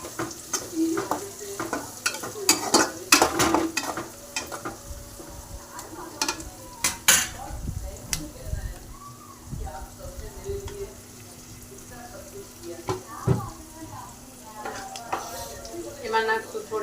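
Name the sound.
peas sautéing in a pan for veg pulao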